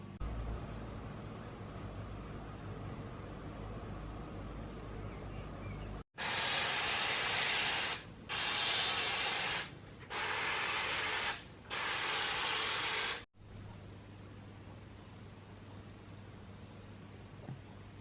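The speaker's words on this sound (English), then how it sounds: "I'm just going to give this one really, really good coat of Lanolin on the underside and the top side" Homemade lanolin rust-prevention spray is sprayed onto the underside of a car in four close, hissing bursts with short gaps between them, set against quiet background noise before and after.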